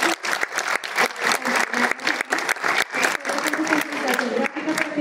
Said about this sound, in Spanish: entonces démosle un aplauso a Pablito.